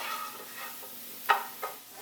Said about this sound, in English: We're just going to let those saute until they release their juices and get nice and tender.